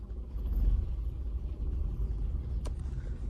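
A car running on CNG rumbles at low speed, a steady low engine drone with road noise heard from inside the cabin, plus one brief click partway through.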